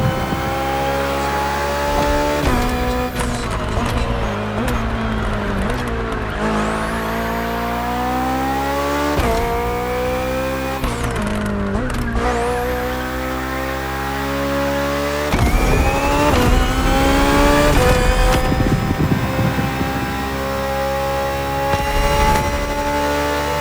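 A BMW Hybrid V8 race car driving hard, engine revving up through gears in repeated rising sweeps with sharp shifts between them, loud and close, sometimes with a higher whine over the engine and no talk.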